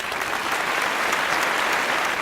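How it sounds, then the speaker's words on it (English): At an awards ceremony, a large audience applauds a speaker with steady, dense clapping, loud and continuous throughout with no voices cutting through. "please a round of applause to Dr."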